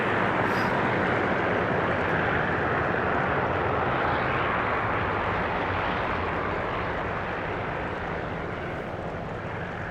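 A WWII ground-attack plane in War Thunder drones steadily with a loud, constant engine roar from start to finish, dense and unbroken with no voices over it.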